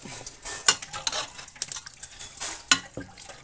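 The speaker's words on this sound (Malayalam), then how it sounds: "നല്ലതുപോലെ ഇളക്കി കൊടുക്കണം" Utensil scraping and stirring beef with salt in a pan, with a couple of sharp metallic clinks over a light sizzle; no voices.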